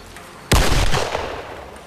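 A single loud gunshot goes off in the video game I.G.I.2, a sharp close crack followed by a reverberant tail that fades over about a second.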